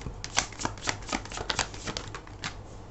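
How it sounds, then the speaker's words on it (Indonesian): Tarot cards being shuffled by hand in a quiet room, a run of crisp papery flicks and soft riffles at an uneven rhythm, close and fairly quiet. "Aku akan shuffle lagi ya. Akan ambil satu kartu."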